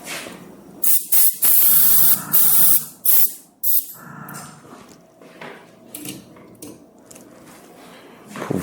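Spray bursts onto a car-shaped cake during finishing, several loud hissing pulses in quick succession at close range, followed by quieter handling sounds.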